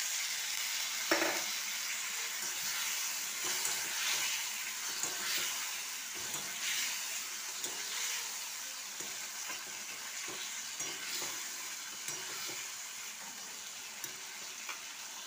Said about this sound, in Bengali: মশলাটা খুব ভালো করে ভাজা হয়ে গেছে, তেল ছেড়ে দিয়েছে।